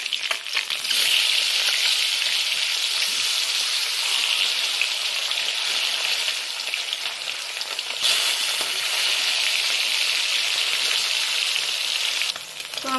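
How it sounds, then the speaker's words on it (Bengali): Katla fish pieces sizzle loudly and steadily in hot oil for a Bengali mustard curry, a continuous bright crackle with a brief dip near the end. "একটা পাশ মাছ ভাজা হয়ে গেছে"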